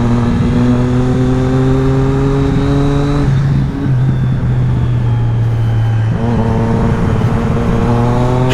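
A Triumph Street Triple S motorcycle engine, an A2-licence version, revs and accelerates loudly and up close, its tone climbing steadily through the gears with a short dip between shifts and no talking over it.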